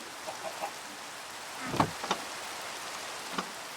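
Steady soft Minecraft rain hiss with a few scattered drops and light taps, fairly quiet and even throughout.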